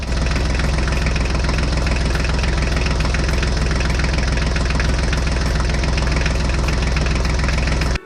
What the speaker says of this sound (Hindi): चलो हल्क अब तुम अपना ट्रैक्टर स्टार्ट करो